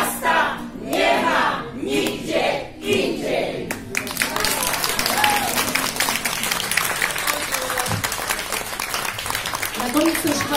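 Audience applause at an event in a Jewish EMPIK venue in Łódź: a voice speaks at first, then a dense, continuous wave of clapping from a sizable crowd follows and carries on to the end.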